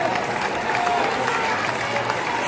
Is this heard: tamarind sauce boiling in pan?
no